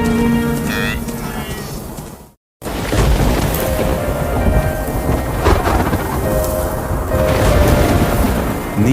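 Rainy-season thunderstorm on the wildebeest migration grounds: a dense roar of heavy rain with deep rolling thunder, briefly cutting to silence before the downpour and rumbles resume, loud and continuous.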